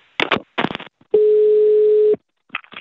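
A telephone emits a single steady call tone lasting about a second, loud and close, between brief bursts of other phone signals and clicks.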